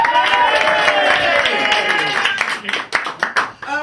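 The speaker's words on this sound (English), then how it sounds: "round of applause, Mr. Jonny Addy!" Pub crowd applauding and cheering a comedian taking the stage at a comedy night, dense clapping that thins out toward the end, with voices mixed in.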